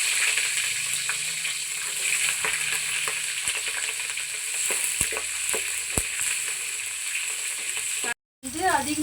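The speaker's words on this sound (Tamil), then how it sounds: "கடுகு பொரிஞ்சிடுச்சு. பூண்டும் பச்சை மிளகாயும் போட்டுக்கலாம்." Mustard seeds, garlic and green chillies sizzle and crackle in hot oil in a home kitchen while a fish curry is being made. Scattered pops and stirring scrapes sit over a steady hiss, and the sound cuts out briefly near the end.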